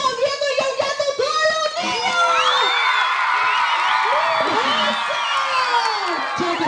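Children at a school Christmas posada shout, whoop and cheer loudly as a crowd, the shrill voices overlapping continuously with some clapping mixed in.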